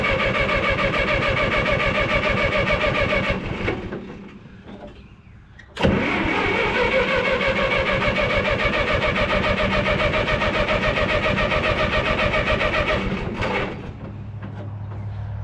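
An old car engine cranking and catching after a tune-up with the choke pulled, a loud rhythmic cranking that falters, then a sharp catch into a steady close running engine before it drops to a lower idle.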